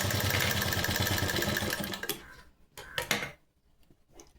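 An electric sewing machine stitches a ladies' blouse with a fast, even whirring run for about two seconds, then stops into a few sharp mechanical clicks and brief restarts nearby.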